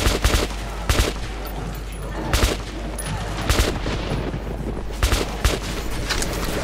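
Gunfire in the video game Metro 2033 Redux: sharp, loud shots, some in quick pairs, crack out at irregular intervals over a steady low background hum.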